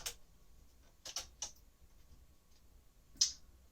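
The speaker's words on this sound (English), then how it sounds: "So I can at least show off how the accents work on this typewriter." 1957 Royal Aristocrat manual typewriter typing accented letters, a few sparse sharp keystrokes snapping in a quiet room, with one louder strike near the end.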